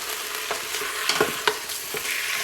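Beef fries in a big bowl with a soft continuous sizzle, broken by several scraping, clinking stirs that come close together at moderate volume.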